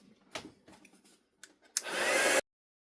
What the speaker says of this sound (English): Okay, so I am going to zap that with the heat tool